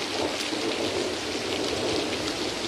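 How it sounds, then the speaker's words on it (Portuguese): Heavy rain falling steadily on a narrow street, a dense, continuous hiss with no breaks, close and loud throughout. "está a chover muito"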